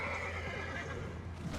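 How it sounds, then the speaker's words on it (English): A horse in the Conan Exiles video game neighs and whinnies while an undead lizard man attacks it, with clip-clop hooves mixed in; the sound is loud and steady throughout. "The undead lizard man is attacking the horse already."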